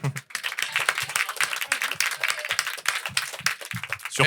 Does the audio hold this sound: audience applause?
yes